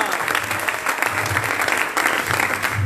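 Audience applause fills a church seminar hall, a steady dense clapping from a large crowd that stays loud and even throughout with no break.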